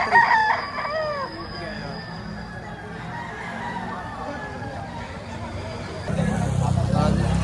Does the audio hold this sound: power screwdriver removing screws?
no